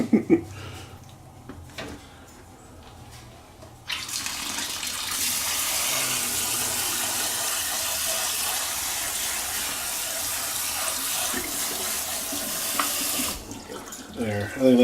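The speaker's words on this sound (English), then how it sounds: "I wonder if I'm supposed to rinse those off." Kitchen faucet runs full over cooked pasta in a strainer, a steady loud gush of water lasting about ten seconds, preceded and followed by quieter handling noises.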